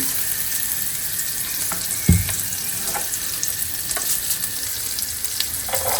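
Desi ghee butter sizzles steadily in a hot pan for a tempering, a constant crackling hiss with a brief clink of a utensil partway through.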